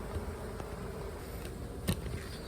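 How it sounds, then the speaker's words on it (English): A low, steady buzzing of many honey bees hums close by at an open hive box, with a few brief bumps and rustles in the background. "We got some bees hanging out up top."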